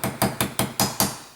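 A hammer taps a retaining pin into the frame of an Iver Johnson Safety Automatic .32 caliber hammerless top-break revolver: six sharp, evenly spaced metallic knocks, close and fairly light, each with a brief ring.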